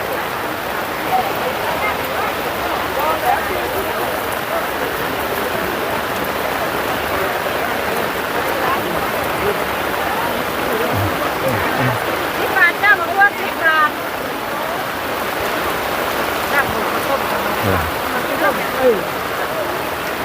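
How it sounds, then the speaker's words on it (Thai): Rain falling steadily over an outdoor market in Kut Khao Pun, a dense even hiss of drops on surfaces throughout, with faint voices and market activity underneath. "มากับสายฝนเลยตอนนี้"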